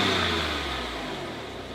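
A 1994 Saab 900 with a 2.5 V6 engine and manual gearbox runs steadily close by, a continuous smooth engine drone with no voices over it.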